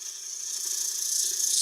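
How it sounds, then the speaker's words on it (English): A square carbide scraper drags across a surface to flatten it, giving a continuous dry hissing rasp that grows slightly louder over its short span, close to the listener with no talking. "I'm going to use my square carbide just to get the"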